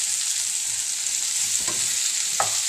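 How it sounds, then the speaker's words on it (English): Cabbage with tofu, onion, garlic and ginger sautéing over high heat, a steady close hiss of sizzling with a couple of brief utensil scrapes, no voices. "And now you saute just until your cabbage starts to wilt."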